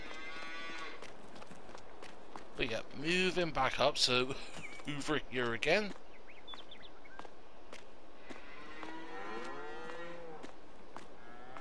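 Cattle moo in a cow barn in the Farming Simulator 22 game on console, a long, loud mooing call in the middle of the clip with a few shorter low calls around it, while someone talks and laughs over steady game ambience.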